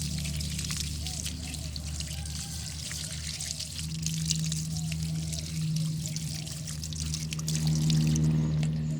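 Water pours steadily over a freshly dug lotus tuber being washed, a continuous close splashing trickle with a faint low hum underneath throughout.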